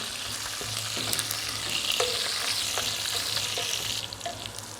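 Garlic, curry leaves, rampe and dried chillies sizzle and crackle steadily in hot oil for a manyokka dish, a continuous close frying hiss with occasional stirring taps and no talk.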